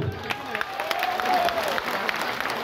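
Audience clapping at a live theatre play, a continuous spatter of applause from a crowd with faint voices mixed in, fairly loud and close.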